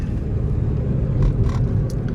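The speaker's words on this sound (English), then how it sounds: "Okay, there's a car." A car rolls past on a quiet road near a chapel at night, a low rumbling tyre-and-engine noise that swells and fades over about two seconds, heard close and without talk.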